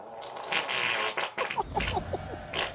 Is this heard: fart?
yes